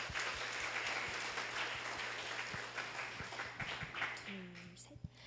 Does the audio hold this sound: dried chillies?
no